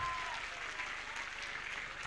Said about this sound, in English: how about a big round of applause for these much deserving kids?